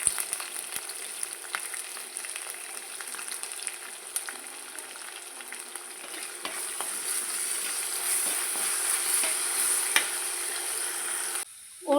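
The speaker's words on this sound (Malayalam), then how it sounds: "പച്ചമുളക്, ഇഞ്ചി, ചെറിയ ഉള്ളി എല്ലാം കൂടി ചേർത്ത് നന്നായി വഴറ്റിയെടുക്കാം." Green chilies, ginger and shallots sauté in a pan for fish curry, producing a steady, close frying hiss with light crackles and stirring scrapes, ending in a brief clatter.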